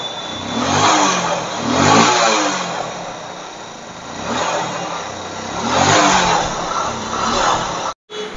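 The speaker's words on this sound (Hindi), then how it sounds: "चलो एक बार कैप लगा देता हूँ और बाइक का पिकअप देख लेता हूँ" Motorcycle engine revving repeatedly in several rising and falling surges, close and loud, while the bike is tested for pickup after a tune-up; a brief dropout near the end.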